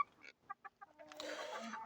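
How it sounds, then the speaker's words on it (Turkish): Village chickens cluck in a short series of separate calls, then a denser burst of overlapping clucking and squawking follows, close by. "Burada köy tavukları falan var."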